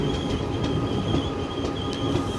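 The Koyna Express rolls into Lonand junction with a steady rumble of wheels on track, faint squeals and a rhythmic clatter, heard close from inside the train with no talking.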